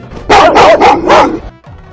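A dog barks four times in quick succession, loud and close, with a short quieter sound trailing after the last bark.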